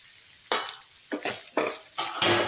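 Onions fry in a pan with a steady sizzle, broken by several close bursts of stirring and scraping.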